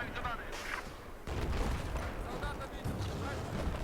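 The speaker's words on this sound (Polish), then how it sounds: "Ktoś tu blisko strzela." Gunshots crackle close by in a Battlefield 4 multiplayer match, a dense, continuous spray of shots and impacts that swells after the first second, with a voice talking faintly underneath.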